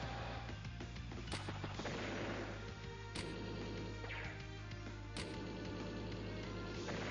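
Gunfire attacking a medium tank in the video game Advance Wars: Days of Ruin, a burst of rapid game shots with sharp periodic impacts over a steady music bed, loud and continuous.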